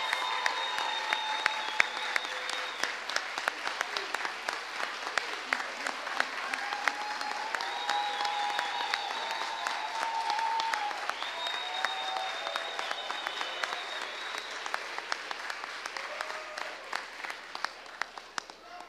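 A chapel audience claps and cheers in sustained, dense applause lasting nearly twenty seconds, with scattered whoops rising above the steady clapping at moderate distance.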